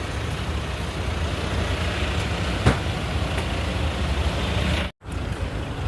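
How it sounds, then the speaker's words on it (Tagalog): Busy road traffic with many cars passing, a steady broad rush of engines and tires close by, with a faint thump partway through and a brief drop-out near the end. "Yan o, dami ng sasakyan."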